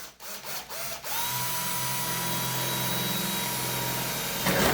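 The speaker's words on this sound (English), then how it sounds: "I'm going to come around here with the drill bit" Power drill with a bit boring into a microwave door micro switch, a few short whirring starts, then a steady, close, high-pitched spinning drone that holds for several seconds.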